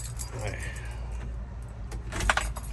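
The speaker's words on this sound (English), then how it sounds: "Oh, there's my keys." Keys jangle and clink loudly near the close, just before starting a snow-bound Subaru Sambar, after a quieter stretch of soft background rustling inside the vehicle.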